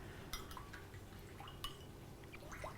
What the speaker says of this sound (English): Love that swirl of water sound.